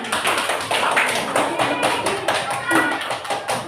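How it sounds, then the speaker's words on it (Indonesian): Students in an Indonesian fifth-grade language class clap together in a rhythmic, group burst of close, busy hand claps, with voices mixed in throughout. "Ya, beri tepuk tangan."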